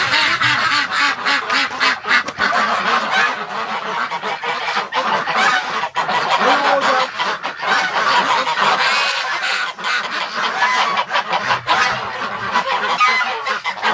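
A flock of ducks and geese inside a barn in winter, quacking and honking loudly and continuously, many birds calling over one another up close.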